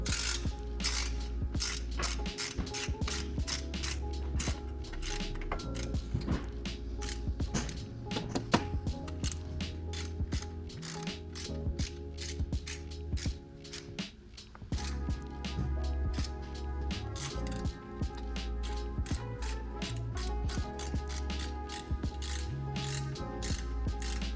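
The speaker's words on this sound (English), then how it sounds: "So I'm just gonna go around and tighten these bad boys up" A torque wrench set to 17 foot-pounds ratchets bolts tight on a chase frame, a fast steady train of metallic clicks running nearly continuously for over twenty seconds, close up and without talk.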